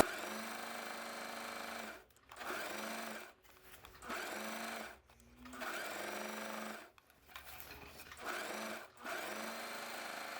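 A sewing machine runs a safety seam on a dress in bursts of steady whirring stitching, four or five runs broken by short pauses, close and clear.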